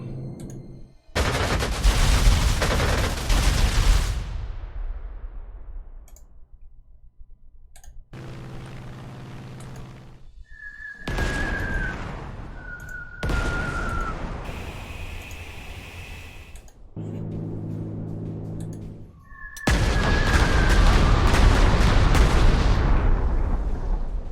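Strafing gunfire in the WWII strategy game Corps 2, set in a 1943 campaign: several long, loud roaring bursts of shooting and blasts separated by quieter gaps, with thin whistling tones sliding over some of the volleys.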